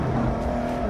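Ford GT engine revving hard on a quick throttle punch, a steady loud mechanical roar held close for under a second with no voices.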